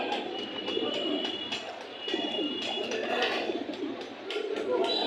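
Pigeons at a busy outdoor pigeon market in Hasnabad, Bangladesh, coo in low, repeated bursts while people talk nearby.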